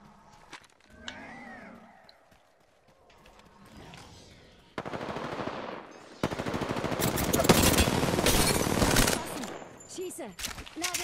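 Gunfire in Apex Legends, rapid automatic bursts that start sparse and build into sustained loud fire, with game voice lines mixed in.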